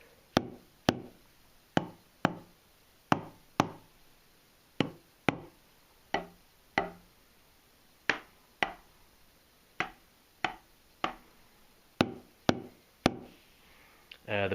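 Sticks strike the rubber pads of an Alesis DM10 electronic drum kit unamplified, producing a quiet series of sharp, dry taps in uneven rhythm, each one short and close, with near silence between hits.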